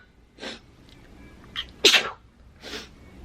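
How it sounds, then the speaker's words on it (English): A single close, sharp sneeze from a woman suffering allergies, preceded by a soft intake of breath and followed by a couple of lighter breathy sounds, in a quiet indoor room. "Oh, I have to sneeze."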